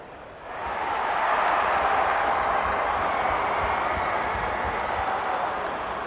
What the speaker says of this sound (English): The crowd already making plenty of noise as the captains come together in the middle.